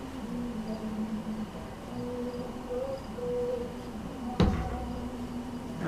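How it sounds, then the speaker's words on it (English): Crickets chirp faintly and steadily somewhere outside, a soft continuous trill in a quiet room, broken once by a sharp nearby knock. "I like the sound of the crickets."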